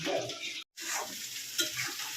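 Potatoes fry in a pan for biryani, with a close sizzle and scraping stirs broken by one brief silent gap.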